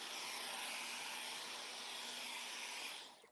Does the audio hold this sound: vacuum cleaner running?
yes